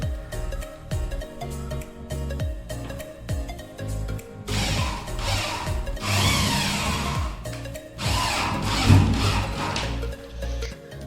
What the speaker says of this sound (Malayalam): സ്റ്റാർ സെൽഫ് സ്ക്രൂ ഉപയോഗിച്ചിട്ടാണ് സ്ക്രൂ ചെയ്യുന്നത്.